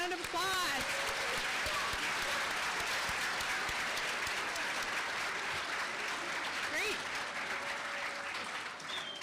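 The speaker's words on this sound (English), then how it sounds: "a big round of applause" Audience applause at a BSN nursing white coat ceremony, a dense, steady wash of many hands clapping at close range for the whole stretch, with a few scattered voices and whoops rising above it.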